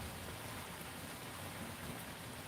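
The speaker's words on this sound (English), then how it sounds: "we're having a little rain shower" A light rain shower falls steadily, a dense even patter of drops hitting surfaces outdoors, continuous and moderately close with no voices.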